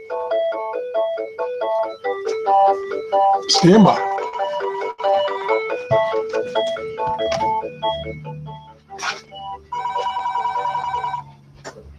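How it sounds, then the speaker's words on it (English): A telephone rings with a repeated electronic warbling tone in regular bursts, loud and close, mixed with radio noise from a software-defined receiver while a person talks briefly. "now the phone's ringing."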